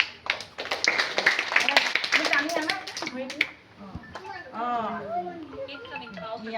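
Hands clap in a quick, steady run of sharp claps, close and lively, to welcome a small child on the first day at a pre-primary school. Clapping fades into speech from a child and adults.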